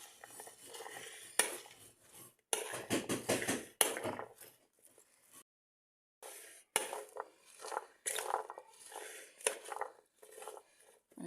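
Salad being stirred with ordinary table salt in a bowl, giving intermittent scraping and clinking of utensil against dish in short bursts separated by pauses.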